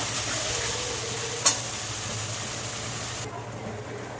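Spice masala sautéed and stirred in a pan, a steady low sizzle with a brief sharp scrape of the spatula partway through, close and continuous.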